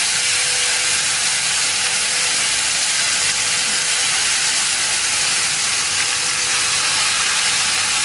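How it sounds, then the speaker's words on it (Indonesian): Chili sambal sizzles in a hot pan as it is sautéed for an Indonesian breakfast dish, making a loud, steady, hissing fry that stays even and unbroken throughout, with no talk. "setelah itu kita akan tumis sambalnya"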